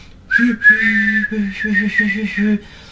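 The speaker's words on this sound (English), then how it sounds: "Sir Handel whistled loudly, but George ignored him." A steam engine whistle blows loudly for a long, wavering toot broken by short stutters, sounded by Sir Handel, a narrow-gauge engine, alone for about two seconds.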